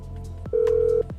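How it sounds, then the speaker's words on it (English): A phone call ringing in the video game GTA 5: one short electronic tone lasting about half a second, set between brief clicks over a low steady hum. "Let's phone her one more time and see what she says"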